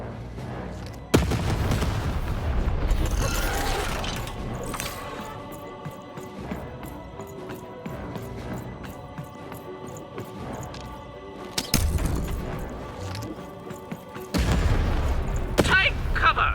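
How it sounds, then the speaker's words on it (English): Loud booming cannon blasts from the fantasy video game Lost In Random hit in heavy bursts, separated by quieter stretches of game ambience and music. "Shoot the button to fire the cannon."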